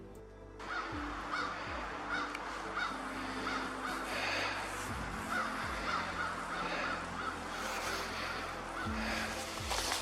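Crows caw repeatedly in harsh bursts over a steady outdoor background, several birds calling at once from moderate distance.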